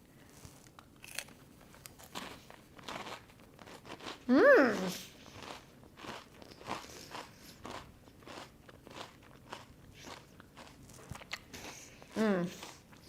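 Crispy fried rose petal loukoumades, Cypriot honey-syrup doughnuts, crunch under a bite twice, a loud crisp crackle near the start and a smaller one near the end, with soft chewing and murmured voice between.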